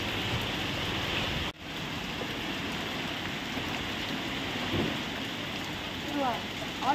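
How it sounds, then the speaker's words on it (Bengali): Heavy rain and gusting wind from Cyclone Remal, heard from beside a window as a dense, steady roar with a sudden brief drop and a few faint rumbles. "হাওয়াটা দেখো কীরকম হচ্ছে সেটাই বুঝতে পারছো তো"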